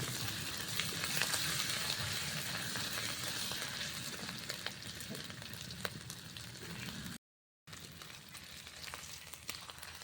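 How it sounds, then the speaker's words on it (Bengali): Crushed ginger and whole spices frying in oil give a continuous crackling sizzle, steady and fairly close, with a few faint stirring clicks and one brief silent gap near the end. "আদা থেতো, আদাটা একটু ভালোভাবে ভেজে নিতে হবে।"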